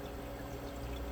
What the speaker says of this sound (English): if you're hearing anything, water swishing around, it's just a system